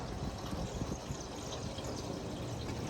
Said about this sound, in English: Pour a little bit more in there.